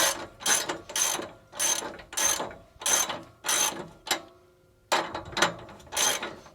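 A ratchet socket wrench works a long muffler bolt loose under a 2019 Subaru WRX STI, giving close, loud rhythmic ratcheting strokes, about eight evenly spaced pulls with a brief pause before the last few.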